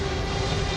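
Airplane out of control and falling over the Grand Canyon, a steady, loud, close engine roar with a droning hum and no pauses.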